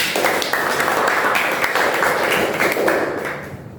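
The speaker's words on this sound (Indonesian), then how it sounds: "Kita beri tepuk tangan untuk teman kalian." Classroom applause for a student, steady dense clapping from a group that fills the clip and tapers off near the end.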